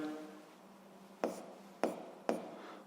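Equation written out by hand during a physics problem on springs: three short, sharp pen or chalk taps on a writing surface, each with a brief scratchy trail, evenly spaced after a quiet, hushed opening.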